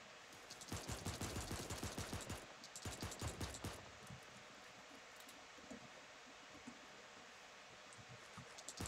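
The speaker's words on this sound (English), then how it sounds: "Oh, people are shooting." Rapid bursts of gunfire crackle in the Furry Royale video game, two clusters of quick shots early on, then quieter scattered pops over a rustling background.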